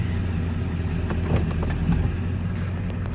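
Ford F350 pickup engine running in forward gear after a transmission replacement, a steady low rumbling idle heard up close with faint clicks and knocks over the drone.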